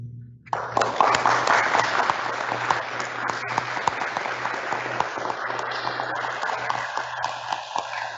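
An audience at a middle school awards ceremony bursts into sustained applause that starts suddenly and continues steadily, with a constant low hum underneath.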